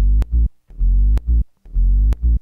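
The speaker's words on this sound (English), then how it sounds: "we remade the sub, which sounds like this." Deep sub bass synth patch built in Serum, sidechained so each sustained low note ducks and swells back, playing three repeating phrases with a short snap cutting in; loud and alone with no talking.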